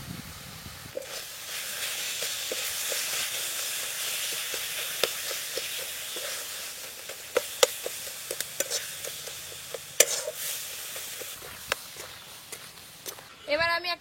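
Coconut filling of freshly grated coconut, thickened milk and Oreo biscuit cream being stirred continuously in a pan, a steady sizzling hiss with scattered scraping clicks of the spoon, ending in a brief louder clatter.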